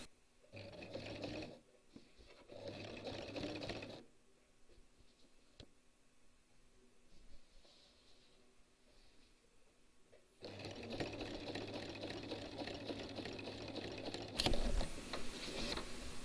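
A sewing machine stitches quilt blocks together, running in two short bursts near the start, pausing, then running steadily for several seconds toward the end, close and clear with no talk.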